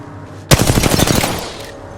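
A loud burst of automatic gunfire in the Apex Legends battle royale game starts abruptly and rattles rapidly for about a second before trailing off, close and alone.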